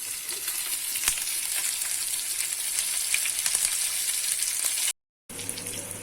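Small hill-stream fish pieces sizzle steadily on a hot oiled tava over a low flame, a continuous close frying hiss with a few soft pops and a brief cut near the end.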